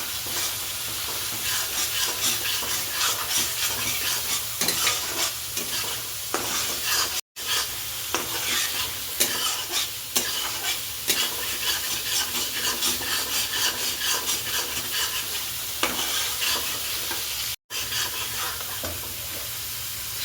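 Chopped tomatoes are stirred and fried in a pan, the spoon scraping steadily through a continuous close sizzle for about twenty seconds, with no talking.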